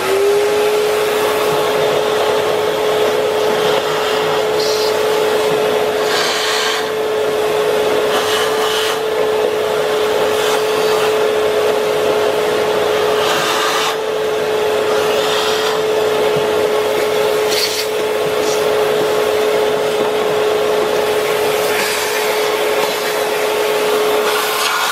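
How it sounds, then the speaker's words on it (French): A vacuum cleaner sucks debris out of the air intake hose of a 1.2 PureTech THP engine, producing a loud steady whine with scraping and rubbing bumps as the nozzle moves around. "là on va aspirer et on va se contenter de ça"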